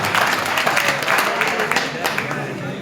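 Audience applause at a gathering, a dense, steady clapping that lasts the whole short stretch, with a voice speaking over it.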